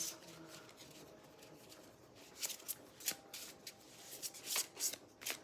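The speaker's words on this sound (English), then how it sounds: "I'm going to shuffle them a different way and see if cards come out a little faster" Tarot cards being shuffled by hand, quiet at first with soft rustling, then a run of crisp riffling flicks and slaps that grow louder and more frequent toward the end.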